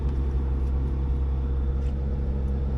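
A $400 auction truck's engine idles steadily nearby, a low continuous rumble with a constant hum and no change in pace across the stretch, with no one speaking.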